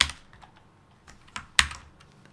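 A computer keyboard clicks with a few scattered keystrokes during CAD modelling work, ending with one sharper, louder key strike, close by and with no talking.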